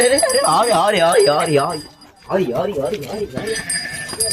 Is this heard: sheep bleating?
yes